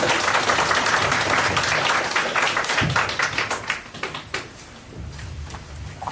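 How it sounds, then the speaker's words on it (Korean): An audience at the 2022 Kim Sang-yeol Theatre Award ceremony applauds in welcome. The clapping is dense and loud at first, then thins into scattered claps and fades out. "환영의 박수 부탁드립니다."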